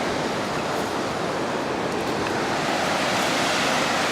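Ocean surf breaks steadily on a Pacific beach near Olympic National Forest at high tide, a constant broad wash of water and spray heard up close with no voices.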